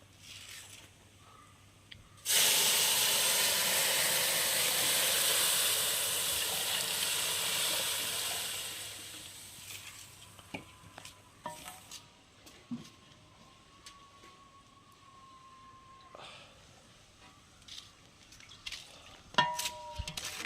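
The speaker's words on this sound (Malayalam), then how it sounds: "അപ്പോൾ നമുക്കിനി പാല് ചേർത്ത് കൊടുക്കാം" Milk poured into a pan of browned vermicelli: a loud, steady rushing pour and sizzle for several seconds, fading into a quieter simmer with scattered clinks and light stirring, without speech.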